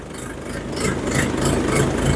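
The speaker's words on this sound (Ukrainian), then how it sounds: "мотор працює прекрасно" A big 50-horsepower Bulat 504 tractor engine idles close by, a deep, throbbing rumble with a faint regular pulse.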